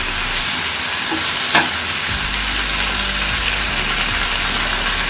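Salted bottle gourd cooks down in a pan while being stirred, with a dense steady sizzle, a spoon knocking once against the pan and a deep rumble underneath. No speech.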